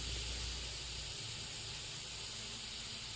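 Onion paste added to a hot pan for a Bengali gugli (snail) curry, giving a steady broad hiss and sizzle that holds evenly throughout, close and alone with no talk.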